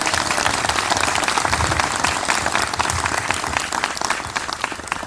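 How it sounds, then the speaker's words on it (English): An audience at a gathering at a shrine in Endeavor, Wisconsin claps warmly, a dense continuous round of applause filling the room at steady volume, trailing off slightly at the end. "Please give him a round of applause."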